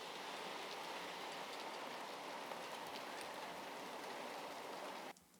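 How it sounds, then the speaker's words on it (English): Steady rain falling across a city street, a dense even hiss of drops on hard surfaces with faint traffic rumble beneath, continuous for about five seconds before abruptly dropping to a quieter wash. "Oh, Rainy City. Sounds like it."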